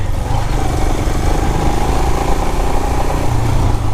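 Royal Enfield Himalayan BS6 adventure motorcycle ridden while the rider stands on the pegs, its engine thumping steadily and loud, close by and continuous, with no talk over it.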